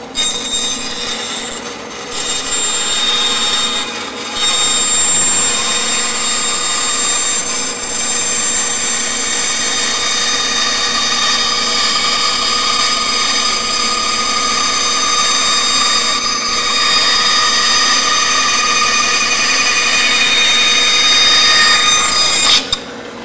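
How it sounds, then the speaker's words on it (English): A power tool trims and sands the edges of a cast fiberglass part, a loud, steady, close grinding whine that runs almost unbroken for over twenty seconds. "all that's left to do is for me to trim off this flash of fiberglass, sand those edges smooth"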